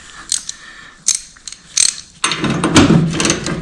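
A 3/8 inch drive ratchet wrench working a fastener on a snow blower, with a few sharp clicking ratchet strokes up close, then a longer stretch of busy mechanical clatter.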